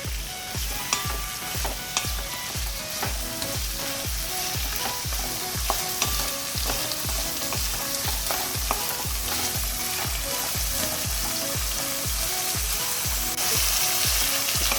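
Boiled cauliflower is stirred in a pan over a high flame, with a loud steady sizzle under a regular rhythm of spoon scrapes and clinks repeating about twice a second throughout.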